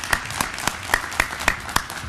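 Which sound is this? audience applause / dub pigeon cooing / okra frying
audience applause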